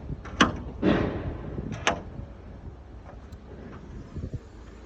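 A ute canopy is opened with a few close latch clunks and door knocks in the first two seconds, then a quieter rustle of handling with faint wind against the microphone.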